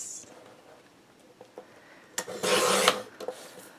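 Paper being cut for a large folio craft project, a short crisp rasping slice lasting about half a second, preceded by faint rustles and soft handling taps at close range, with no talk.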